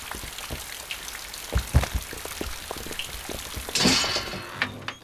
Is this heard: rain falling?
yes